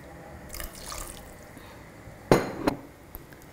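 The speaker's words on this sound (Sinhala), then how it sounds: "මේකට අපිට වතුර දාන්න ඕනේ" Water is poured into beans in a pot for homemade baked beans, a few short splashing pours and clinks, with soft trickling between them in a quiet kitchen.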